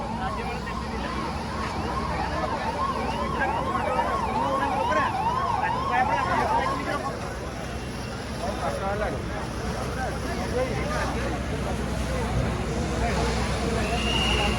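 A fire engine siren wails in repeated rising and falling sweeps for several seconds and then fades into a busy street bed, while people talk nearby throughout.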